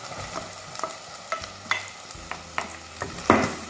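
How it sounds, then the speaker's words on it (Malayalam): Onion, crushed ginger and garlic, and slit green chili are sautéed in a pan. Soft sizzling runs throughout, broken by repeated sharp scrapes and clinks of a spoon stirring, near and fairly quiet, with no talking. "ഇതിട്ട് നന്നായിട്ട് നമുക്കൊന്ന് വഴറ്റിയെടുക്കാം."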